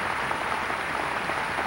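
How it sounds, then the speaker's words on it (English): A live audience applauds warmly for a speaker at a 1990 lecture on education, a steady, dense wash of clapping with no pauses throughout. "Please let us give Minister James Muhammad a warm round of applause"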